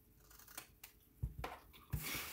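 Scissors snipping a paper tail piece for a handmade Fourth of July card at a stamping desk, a few short crisp cuts spaced over a couple of seconds, close and fairly quiet with no talk.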